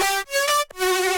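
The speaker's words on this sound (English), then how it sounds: "but this is a cutoff automation for the leads." A synth lead in FL Studio with its filter cutoff automated, playing bright, sustained harmonic notes in three phrases split by short gaps, alone and fairly loud with a slight shift in brightness.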